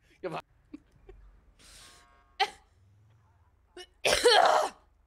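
A few short, sharp coughs close by, scattered between brief pauses, with one louder burst near the end.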